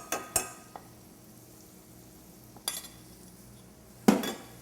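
Flour being stirred into a roux in a pan, heard as a few sharp clinks and scrapes of a utensil against the pan over faint background sizzle.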